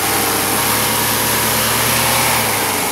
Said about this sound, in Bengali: দর্শক দেখতে পাচ্ছেন গাড়িটির ইঞ্জিনের সাউন্ড খুব ভালো, খুব সুন্দর সাউন্ড দেখতে পাচ্ছেন